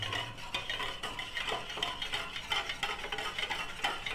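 A spoon works steadily through a mixture of milk, sugar and bread toast, giving a continuous close scraping and clinking against the bowl, with no talking.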